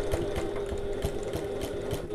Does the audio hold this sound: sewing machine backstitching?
yes